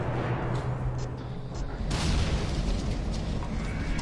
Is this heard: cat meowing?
no